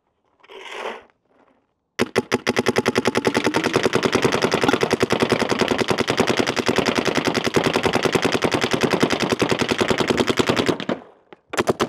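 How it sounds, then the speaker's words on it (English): Luxe Idol paintball marker firing in a long rapid-fire burst of about nine seconds, dense regular pops close and loud, preceded by a short rattling sound and a pause. "My paintballs are coming out."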